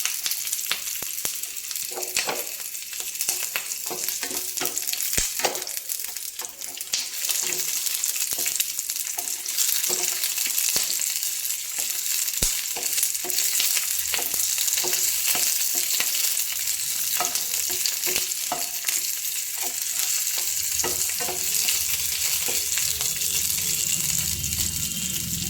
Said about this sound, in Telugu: ఇవి కొంచెం వేగితే చాలండి, ఎక్కువ వేగాల్సిన అవసరం లేదు.